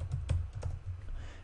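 Text is typed on a computer keyboard, a quick irregular run of close key clicks and taps with a few louder strikes, over a low continuous room hum.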